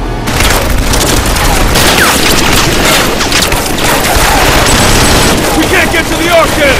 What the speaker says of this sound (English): Take out those machine guns!